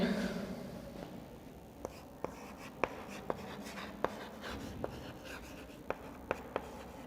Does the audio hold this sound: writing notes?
yes